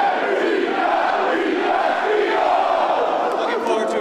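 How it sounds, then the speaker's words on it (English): Crowd at an Eagles NFL draft party chanting together, a dense, steady roar of many voices held loud throughout. "Let's hear a quick Eagles chant for us."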